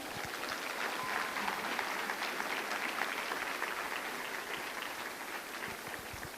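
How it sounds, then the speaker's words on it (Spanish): A church congregation applauding together, sustained dense clapping that fills the room evenly for several seconds without pause. "¿Alguien le da un aplauso al Señor?"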